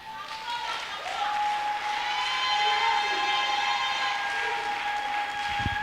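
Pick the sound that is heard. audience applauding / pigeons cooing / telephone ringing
audience applauding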